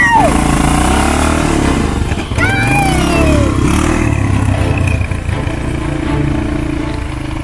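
A motocross motorcycle revs hard while climbing a steep sledding hill, its engine loud and close, rising and falling through the gears under excited voices and shouts.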